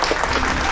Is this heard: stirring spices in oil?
no